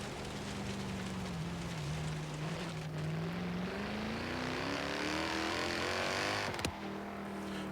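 A 1997 BMW M3 with a drift tune revving in Forza Horizon 3 out in the Outback, a loud continuous engine drone that climbs steadily in pitch, drops briefly and settles again.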